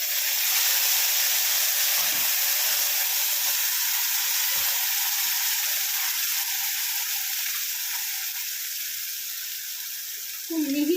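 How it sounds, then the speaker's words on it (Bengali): Ground spice paste fries in hot oil with a loud, continuous sizzle that eases slightly over time, broken by a few soft stirring knocks and a brief voice near the end. "এবার এটাকে অনেকক্ষণ ধরে কষিয়ে কষিয়ে তেল ওঠা অবধি এটাকে কষিয়ে নেব।"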